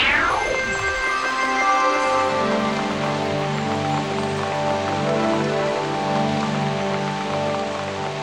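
Cartoon rain falls in a steady, even hiss under sustained background music, which opens with a quick falling whistle.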